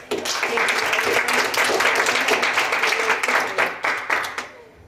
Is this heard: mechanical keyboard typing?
no